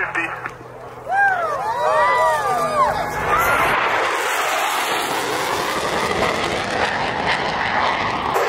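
Douglas C-47 flying past at an airshow, a swelling propeller-engine drone rising to a loud broad roar, with crowd noise and an announcer talking throughout.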